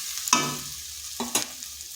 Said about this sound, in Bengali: এইভাবে ভেজে ভেজে রান্নাটা করতে হবে